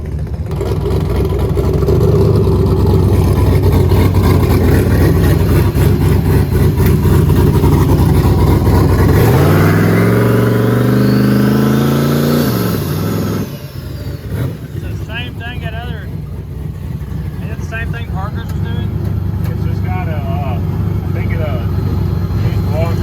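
A turbocharged Ford Mustang engine drones and revs while driven, with a rising then falling sweep midway, under steady speech throughout.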